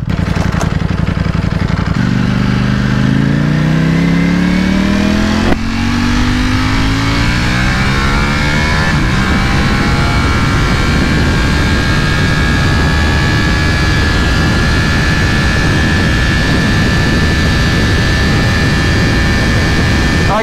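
2020 Ducati Panigale V4S motorcycle engine in race mode, loud and close, revving up through rising pitch sweeps then holding a strong steady roar, with no voices.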